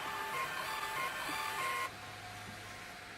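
A label printer feeding out small barcode labels gives a steady mechanical whir with faint tonal whine for about two seconds, then stops and leaves only quiet room noise.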